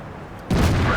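A T54 Mod 1, a Russian tier 8 premium tank in World of Tanks, fires its cannon: one sudden loud boom after a brief quiet stretch, followed by a sustained rumbling roar.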